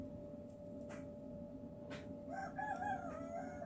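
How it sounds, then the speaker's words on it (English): A rooster crows once at a moderate distance, a rising and falling call over quiet outdoor background hum, with no talking. "Go away, rooster."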